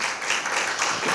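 Audience applause at a Korean lecture event on Incheon's independence movement, a steady broadband wash of clapping that fills the whole moment at a moderate, even level with no voices on top.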